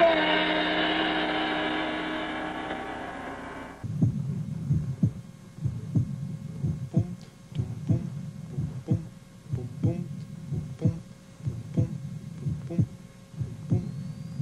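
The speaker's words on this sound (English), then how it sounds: "I'm listening to my heartbeat." A steady, muffled heartbeat thumps in a regular rhythm for about ten seconds, low and close, after a fading tone at the start.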